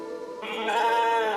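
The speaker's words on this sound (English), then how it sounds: "Oh, it's a sheep." A sheep in The Alters colony sim video game lets out one sustained, wavering bleat, loud and close, with no talk over it.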